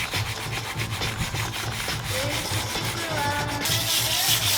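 Rhythmic back-and-forth sanding strokes rasp against a boat hull, steady and close, growing slightly louder toward the end.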